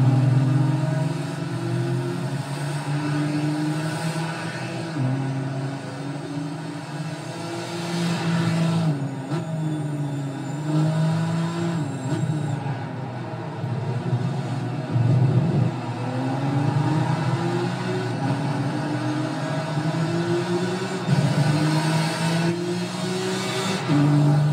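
Race cars, including 2012 GT Academy Nissans, lap Twin Ring Motegi in Gran Turismo 5, with several engines droning and rising and falling in pitch as they rev, shift and pass in a steady, continuous roar.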